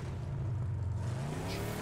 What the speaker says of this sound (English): Man, I hear that car coming up fast.